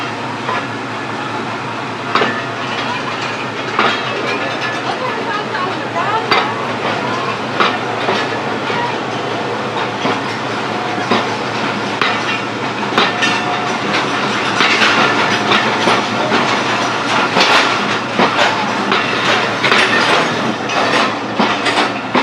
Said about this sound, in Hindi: अल्लामा इकबाल एक्सप्रेस डिपार्ट कर रही है पसरूर के रेलवे स्टेशन से